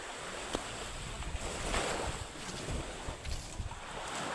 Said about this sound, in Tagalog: Dagat ng Batangas. Nalibot ng dagat.